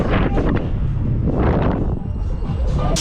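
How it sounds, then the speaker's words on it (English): Strong wind buffets the microphone outdoors at the Adventure Coast amusement park in Southport, a continuous loud rumble that swells and dips, with faint background activity from the park. "Just a bit breezy."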